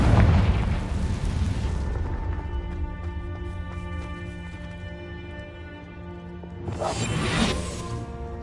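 A Confringo blasting curse explodes in Hogwarts Legacy: a loud, booming burst that rumbles and decays over several seconds, followed by a second sharp whooshing blast near the end, with no talk.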